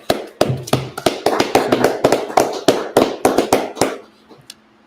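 Hands clap in a quick, uneven run of about fifteen sharp, close claps, loud and dry in a room, some bunched in rapid pairs, before they stop and a short, faint quiet follows.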